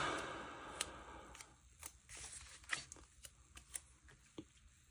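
Scissors cut through paper with a quick run of faint, close snips and rustles, each cut a short crisp click.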